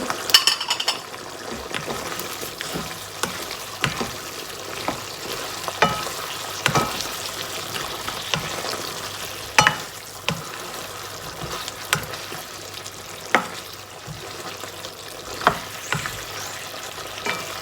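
Chicken red curry with frozen kaffir lime leaves stir-fries in a pan, a steady sizzle broken by repeated sharp scrapes and clinks of a utensil against the pan at irregular intervals, close and moderately loud.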